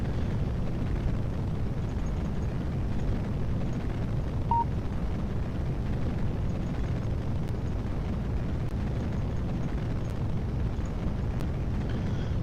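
A rocket engine in the video game Kerbal Space Program roars as a continuous low rumble, steady and dense throughout with no pauses, and no voices.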